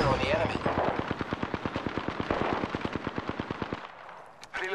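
Automatic gunfire in the video game Apex Legends: one sustained rapid burst of evenly spaced, close shots lasting several seconds, then a pause and a few brief clicks.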